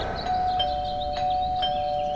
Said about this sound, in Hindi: तभी डोरबेल बजी और तान्नी को जैसे होश आया।